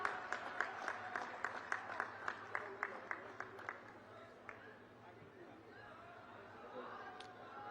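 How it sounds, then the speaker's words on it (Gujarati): Applause at a political rally in Himmatnagar where PM Narendra Modi is addressing a crowd, starting as a burst of distinct claps that thins out over a few seconds into a murmur of crowd chatter. "તાળીઓના ગડગડાટથી ફરીથી વધાવીશું।"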